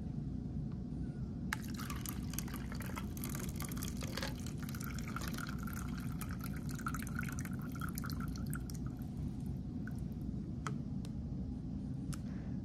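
Salt water drips through a filter in a classroom separation experiment, a quiet, close series of small drips and trickles over faint background hiss, with no talking.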